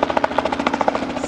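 A helicopter flies over an outdoor car drift show in Bocholt, its rotor making a loud, steady, rapid thumping over a constant engine drone, with no voices.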